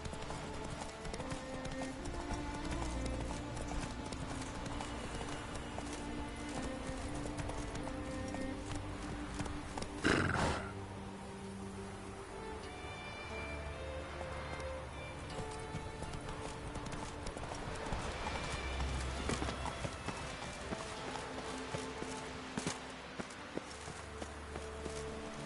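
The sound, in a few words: horse Roach galloping in The Witcher 3 video game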